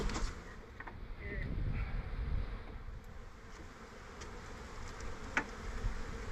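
Honey bees swarm and hum around a hive being fed, built with eight-frame boxes, a steady, close buzzing with occasional faint clicks and brief louder passes of single bees.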